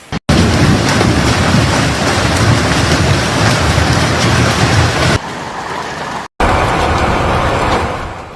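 A violent hailstorm pounds Queensland, a dense, loud, steady roar of ice striking roofs, vehicles and streets, continuous and close with brief breaks near the end.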